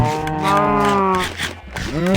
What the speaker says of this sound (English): Obviously, you have a bunch of cows here